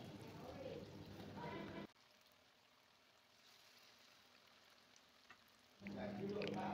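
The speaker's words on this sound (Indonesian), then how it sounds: "Kita goreng ya sampai kering atau sesuai selera" Corn fritters (bakwan jagung) fry in hot oil in a pan, a soft steady sizzle that drops quieter for a few seconds before rising again, close and low in level.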